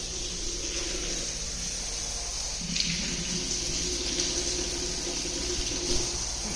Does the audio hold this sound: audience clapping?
no